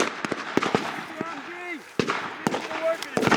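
Machine gun fire at an outdoor battle reenactment, with sharp cracking shots in short irregular bursts, some near and some more distant, while people shout over it.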